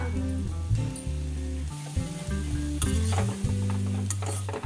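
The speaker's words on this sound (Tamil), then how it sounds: "இந்த வாழைத்தண்டை வதக்கும் போது நமக்கு ஈரப்பதம் அப்படியே நமக்கு வெளியில் வரும்" Chopped banana stem sizzles and crackles in a hot pan while being stirred, with occasional scraping of a utensil against the pan.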